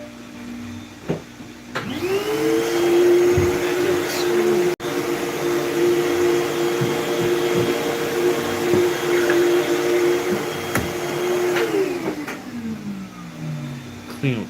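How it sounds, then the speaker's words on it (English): A shop vac starts up, drones steadily at close range while sucking up sawdust, then powers down and winds off, with some background noise and voices around it. "Clean with the shop vac."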